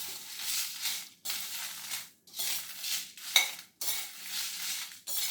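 Spices dry-roasting in a pan without oil, a soft rhythmic scraping and rattling of stirring in repeated bursts with short pauses, faint and close.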